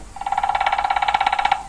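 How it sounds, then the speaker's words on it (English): A rapid, even burst of tapping, a woodpecker's drumming rattling quickly for about a second and a half, close and fairly loud. "That's the sound of a woodpecker"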